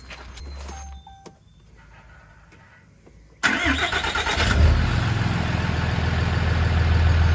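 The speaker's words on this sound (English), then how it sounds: "Brax, jump in there and fire it up for him" Ram 3500 hot shot tow truck with new exhaust and EFI Live tuning cranks briefly after a quiet pause, then fires and settles into a loud, steady rumbling idle close by.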